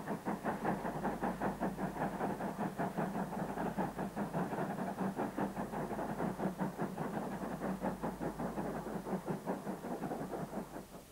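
GWR steam locomotive 5051 Earl Bathurst works along the line, its exhaust beating in a fast, regular chuffing rhythm over a low rumble, fairly faint and heard at a distance without any voices.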